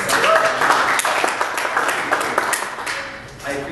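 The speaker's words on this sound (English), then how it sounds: "we have a round of applause for ourselves?" Workshop participants at an anti-bullying session applaud themselves, a dense, steady clatter of many hands mixed with a few voices, fairly close and sustained throughout.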